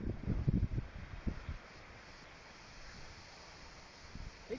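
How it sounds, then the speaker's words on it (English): Gusting wind buffets a microphone outdoors on a windy day, with strong low rumbling bursts at first that ease into a steadier, softer rush before rising briefly again at the end. "Wind's too strong, he can't come back."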